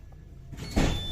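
Doors on a GWR Class 230 battery train slide open at a station, a whirring motorised movement that swells into a louder rushing clunk near the end, heard close up with no talk.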